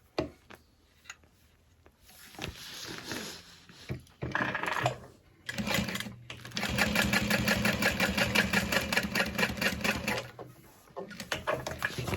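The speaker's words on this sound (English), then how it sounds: "we're going to top stitch along that panel" Sewing machine top stitching along a tote bag panel, the motor running in long steady bursts with short pauses between, close and fairly loud, with a few quiet handling sounds before it starts.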